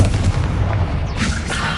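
A Confringo blasting spell goes off in Hogwarts Legacy as a loud, near booming burst with crackling fire, a second flare of the blast following about a second later, with no talk.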